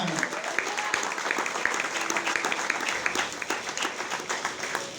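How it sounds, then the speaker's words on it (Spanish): A church congregation at a morning service applauds in a broad wash of clapping with sharper individual claps standing out, while voices carry faintly through it. "Denles aplauso al Rey en esta mañana."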